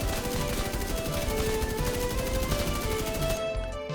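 Rapid, sustained automatic gunfire from shooting in the video game The Division 2, loud and close with a steady rhythmic stream of shots that cuts off near the end.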